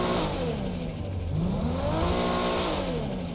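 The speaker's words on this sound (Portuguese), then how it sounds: "Olha a turbina espirrando" A modded car in GTA V revs hard, its engine climbing and falling in pitch while the turbo sputters and crackles, a loud continuous game-engine roar with no talk.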